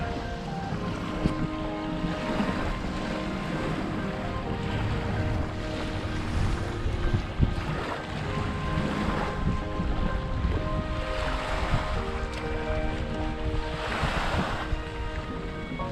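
A police boat's engine drones across open water, with waves washing and wind buffeting the microphone; no one speaks.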